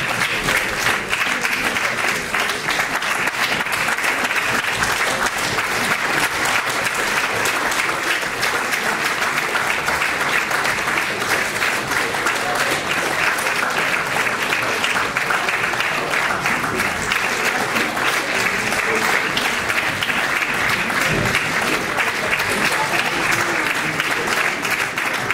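Steady, sustained audience applause for the musicians of a town concert band at an evening performance, a dense wash of clapping hands that holds at a constant level from start to finish without voices on top.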